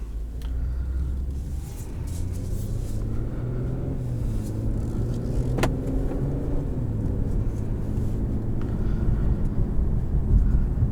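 A 2021 Infiniti Q50S Red Sport 400 driving, heard from inside as a continuous low engine and road rumble with rising and falling engine tones and a brief sharp click partway through.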